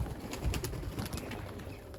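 Young racing pigeons coo softly inside the loft, low murmuring calls blending into a steady rustling background, fairly faint with no speech.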